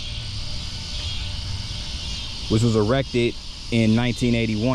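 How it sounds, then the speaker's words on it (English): A steady high insect drone of crickets chirping in the evening runs continuously underneath someone talking close by, outdoors in Tuskegee, Alabama. "those crickets come out in the evening time"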